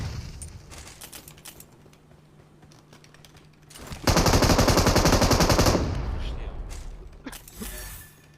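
Gunfire in the PUBG Mobile video game: scattered shots early on, then a loud sustained automatic burst for about two seconds, followed by further sporadic shots, with a voice speaking over the game sounds.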